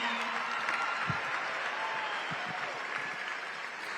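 Sustained crowd applause at a Bassmaster Classic weigh-in on Lake Hartwell, honoring high school anglers; steady dense clapping with some cheering, fairly loud and continuous throughout.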